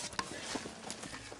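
A horse's hooves clip-clop in a brief burst of a few uneven strikes, close and fairly loud over a busy background, in a horror film scene.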